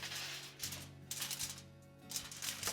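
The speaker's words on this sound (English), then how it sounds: "I'm going to put this springform pan on top of some foil," Aluminium foil crinkling and rustling as it is tucked around a springform pan holding a Basque cheesecake, several close crackling bursts.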